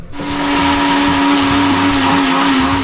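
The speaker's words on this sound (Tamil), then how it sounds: "சரி, இதை நம்ம பொடிச்சிட்டு காட்டுறேன் உங்களுக்கு." Mixer grinder running steadily, grinding homemade baby food into powder; a loud, continuous electric motor whine with a sustained tonal hum and no pauses.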